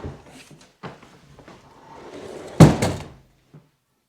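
A sliding door on a rolling track in a cottage is shoved along, rumbling briefly before hitting its stop with a loud thunk, followed by a faint knock; close by, with no talk.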